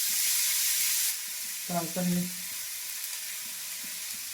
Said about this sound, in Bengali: পাঁচফোড়ন দিয়ে এবার এই ভাজাগুলো আমি একটু ভেজে নেব।